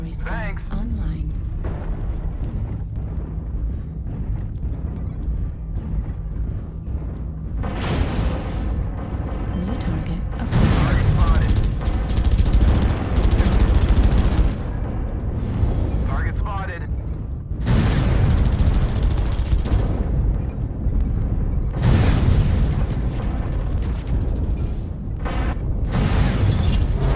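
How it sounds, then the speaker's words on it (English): Heavy booming artillery explosions from a video game, several loud broadband blasts landing in bursts over a continuous low rumble of battle, with voices talking throughout. "Artillery strike"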